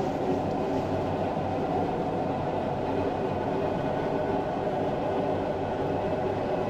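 A Class 421 electric train runs the Tonbridge to Hastings line in Train Simulator 2018, passing through a short tunnel: a steady, close, full-bodied rumble of wheels and motors that holds at an even level throughout.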